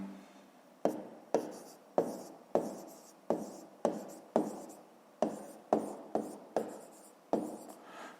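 Pen strokes on paper while a math solution is written down, a dozen or so distinct scratchy marks in a quick irregular rhythm, close and fairly quiet, with no talking.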